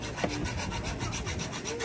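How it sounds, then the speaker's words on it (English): Hacksaw trimming a brake pad, a rapid rhythmic rasping of back-and-forth strokes, close and continuous. "trimming a brake pad with a hacksaw"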